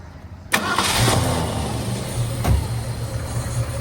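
A 1968 Ford Mustang convertible with its original C-code 289 V8 and automatic transmission cranks and fires half a second in. It catches at once and settles into a loud, steady, rumbling idle nearby.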